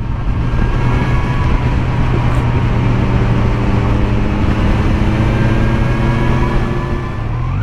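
A Kawasaki Z900 motorcycle engine pulls hard under steady acceleration, a loud continuous drone with rising harmonics throughout, heard close from the rider's position with wind noise.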